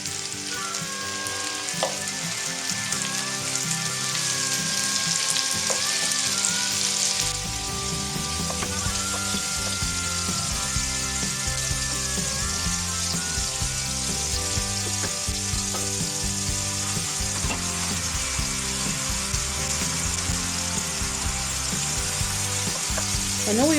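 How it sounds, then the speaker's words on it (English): Pieces of stewing meat for a Flemish stew brown in batches in hot oil in a pan, a continuous close sizzle and spatter that grows denser and busier after a fresh batch goes in early on. "and some more oil to the pan, and in batches brown the meat."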